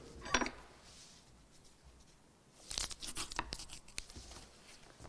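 Sealed bid envelopes torn open at a public tender session: a short faint tear near the start, then a longer crinkly rip of paper a few seconds later, with quiet room tone between.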